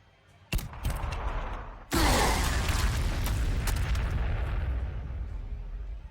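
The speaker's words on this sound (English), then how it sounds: "Let's throw some frag over here." Frag missiles burst in Warhammer 40,000: Sanctus Reach: a sharp blast, then a second heavier explosion rolling into a long, loud, rumbling tail with debris crackle.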